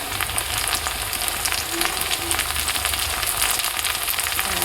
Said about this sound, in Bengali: কাঁচা টমেটো আর পেঁয়াজ যাতে খুব তাড়াতাড়ি ভাজা হয়ে যায়